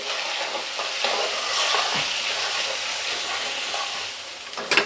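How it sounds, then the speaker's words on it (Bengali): Ground ginger, cumin, coriander and turmeric sizzle and hiss in hot oil in a pan as they are stirred for a Bengali tangra fish curry with brinjal, a steady close frying noise with scraping stirs and a clatter near the end. "এবার মশলাগুলো একটু নেড়ে নিই।"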